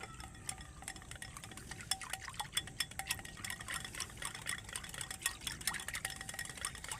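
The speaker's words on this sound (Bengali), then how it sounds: "এবার আমি এই দুটো উপকরণকে খুব ভালো করে মিক্সড করে নেব" Orange juice and cornflour are stirred together in a bowl for orange barfi, giving a quiet, steady clinking and scraping of a spoon with wet swishing, close and faint, with no talking.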